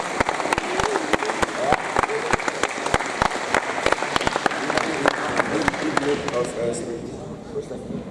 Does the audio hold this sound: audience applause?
yes